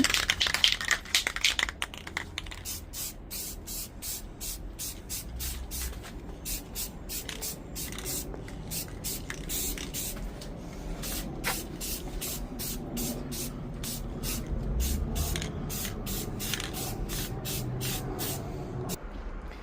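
A rapid series of short, sharp aerosol spray bursts puts a second coat of paint on 1962 Schwinn Twin straight bar bicycle parts, hissing in a steady rhythm at close range with a low background rumble and no speech.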